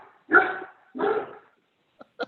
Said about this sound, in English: I apologize for my dogs barking.